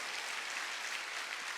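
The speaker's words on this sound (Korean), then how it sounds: "깨달은 사람만 박수치라고." A church congregation claps during a Sunday sermon, a brief, even wash of applause from many hands throughout.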